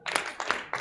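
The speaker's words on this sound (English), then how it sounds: "5 claps." Children clap together in rhythm, three bursts of group clapping spaced evenly, moderately near, with no talking.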